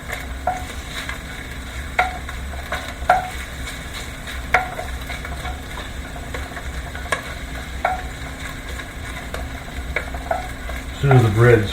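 Partly frozen sausage links frying in a pan, a steady close sizzle with repeated sharp ticks and clinks of utensils against the pan, and a brief scraping rustle near the end.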